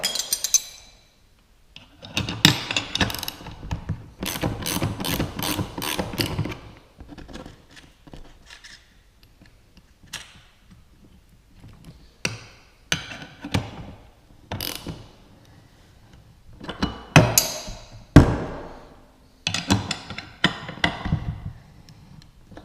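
Metal clicks, ratcheting and clinks come in bursts with pauses as a bolt and nut are loosened and tightened on a top-mount dinghy davit for a Sea-Doo Spark, close and fairly loud.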